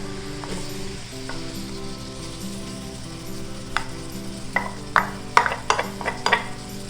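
Onions go back into a hot cast iron pan with deglazing liquid for a Santa Maria chuck roast and sizzle steadily, with a low hum underneath and a run of sharper clinks and scrapes from a utensil stirring in the second half.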